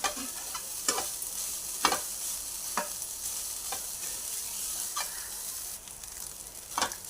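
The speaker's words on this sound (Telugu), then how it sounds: "ఒక 5 నిమిషాలు వేయించుకున్నాం." Soya granules fry in a pan under a constant moderate sizzle, broken by about eight sharp scraping strokes of a spatula stirring them at irregular intervals.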